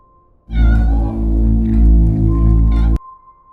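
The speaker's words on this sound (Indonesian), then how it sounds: "seorang kucing hitam mulai muncul" A black cat lets out one long, loud, drawn-out meow lasting a few seconds, close and dominant, with a faint steady tone before and after.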